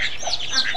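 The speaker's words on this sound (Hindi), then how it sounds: "और इधर है बत्तख, दो डक है" Ducks in a farmyard give honking, nasal quacks in quick succession, close and fairly loud over a steady background hiss.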